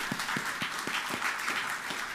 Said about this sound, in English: let's once more give those graduates another round of applause